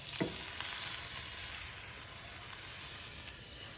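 Butter sizzling in a very hot frying pan, a steady soft crackling hiss at low level with faint scrapes, no talking.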